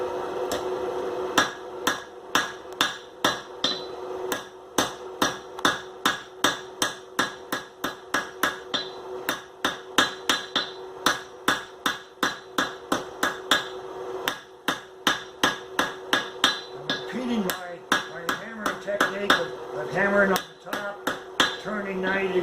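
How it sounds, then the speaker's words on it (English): A blacksmith strikes hot iron on an anvil with a hammer while forging a steak turner, a long run of evenly spaced ringing blows with a brief pause and faint voice near the end. "Let the hammer hit the top surface, and the anvil hit the bottom surface."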